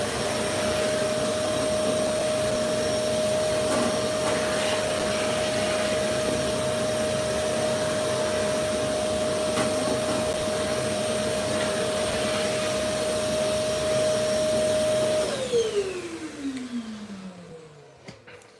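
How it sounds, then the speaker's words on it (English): A vacuum cleaner runs in a watch restoration workshop, a steady loud whine with a constant pitch that holds for about fifteen seconds, then drops and winds down as the motor is switched off. "always a good idea to have a vacuum cleaner"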